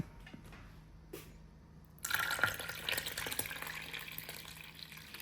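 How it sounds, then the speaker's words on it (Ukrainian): A sauce of sour cream, tomato paste and smoked paprika is poured over stuffed peppers in a pot. After a quiet start, a soft, steady liquid splashing begins midway and continues to the end. "І от заливаємо нашою заливкою перець."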